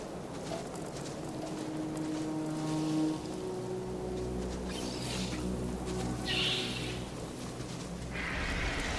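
Steady patter of rain in the video game Starfield, with soft hissing, mixed with faint tonal hums and occasional brighter swells, no voices.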